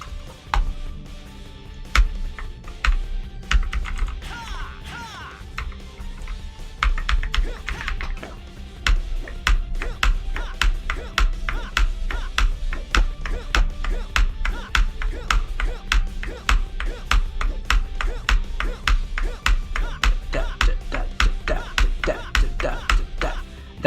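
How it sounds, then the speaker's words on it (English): Keys on a computer keyboard clatter while playing King of Fighters XIII, quick sharp clicks arriving in rapid, fairly regular bursts and close to the listener, with no talking over them. "That is the input delay on a keyboard."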